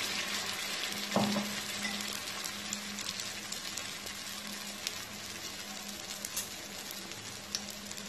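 Kuzhi paniyaram frying in a pan over medium heat, giving a steady soft sizzle with one brief utensil clink near the start, close and quiet, with no talk.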